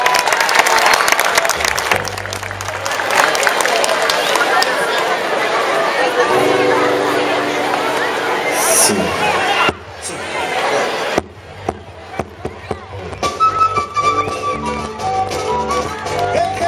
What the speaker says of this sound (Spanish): las palmas para los alumnos del sexto grado